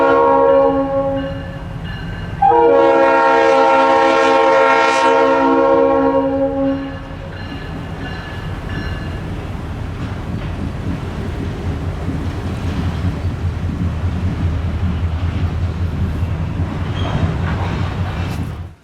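A CSS freight train on the Kingsbury Branch sounds a long, loud multi-tone horn for several seconds, then its railcars rumble and roll past steadily as it slows.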